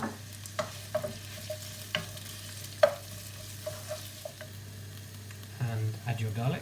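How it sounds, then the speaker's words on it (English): Onions frying in a glug of oil in a pan over medium-high heat, a steady sizzle broken by scattered clicks and scrapes of stirring, with busier clattering near the end. "Here we have a glug of oil in a pan over medium-high heat, to which I'm going to add my onions."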